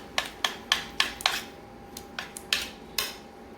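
A spoon or spatula knocks and scrapes against a bowl while sticky, wet ube batter is mixed, giving about ten sharp, evenly spaced clicks close by.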